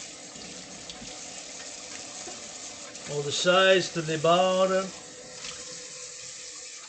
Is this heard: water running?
yes